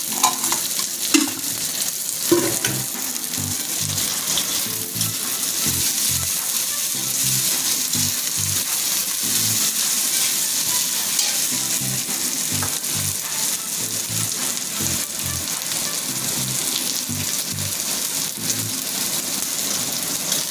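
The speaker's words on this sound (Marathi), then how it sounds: "आता ही कांदा मी चांगला तेलात म्हणजे तळून घेतल्यासारखाच घ्यायचा आहे।" Chopped onion frying in oil in a cooking pot for a spicy Maharashtrian maswadi rassa curry, a steady close sizzle with repeated stirring scrapes throughout, no talking.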